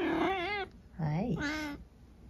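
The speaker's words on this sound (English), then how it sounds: "And this is where the cat's been sleeping." A house cat gives two drawn-out meows with a short gap between them, close and clear in a quiet home.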